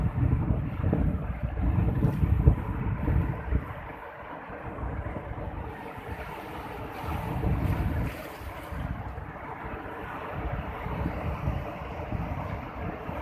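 Large waves surge and crash in slow rolling swells beneath heavy wind buffeting, with a low engine hum running steadily underneath.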